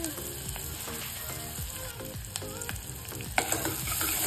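Curry leaves, garlic and white beans sizzling in oil for masale bhat are stirred with repeated clattering scrapes of a spoon against the pan over a constant frying hiss.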